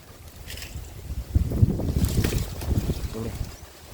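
Wind blowing across an open traditional salt-boiling site in the countryside, a rushing, buffeting gust that swells in the middle and fades, with faint voices underneath.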